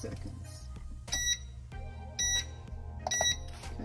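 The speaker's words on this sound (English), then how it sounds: "Okay, the timer beeped." A heat press timer beeps in three short bursts against steady background hum during an Infusible Ink sock-pressing job on a Cricut heat press.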